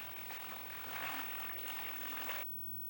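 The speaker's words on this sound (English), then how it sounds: "make a small dent at the center of the mound and pour water in the dent" Water pours steadily into a dent at the center of a mixed compost mound, a close, splashing trickle that runs for a couple of seconds and then stops abruptly.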